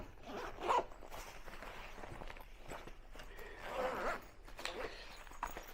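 A zip being pulled on the front pocket of an XP metal detecting backpack, giving a couple of quick, close ripping strokes with soft handling rustle between them and no talk.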